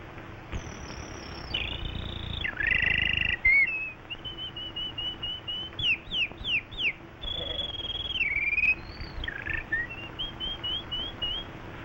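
A man whistles in imitation of a canary's song: warbling trills, rapid chirps and sliding high notes in bursts, close and fairly loud, with no talking.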